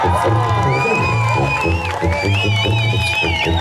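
A concert crowd of around 80,000 in Hamilton cheers and whoops loudly and continuously, a dense roar of voices with shrill shouts rising above it.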